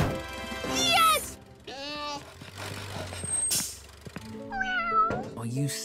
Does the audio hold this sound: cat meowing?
yes